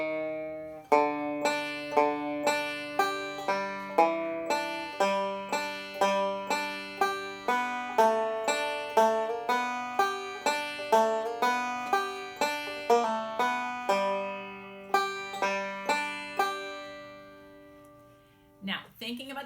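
A banjo plays a complete melodic phrase, opening with quick pickup notes, then a steady run of bright plucked notes with clear ringing attacks.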